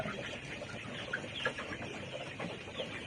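Layer hens clucking on a poultry farm, a low continuous murmur of many birds with a few sharper clucks rising out of it, heard from a short distance and fairly faint, with no speech.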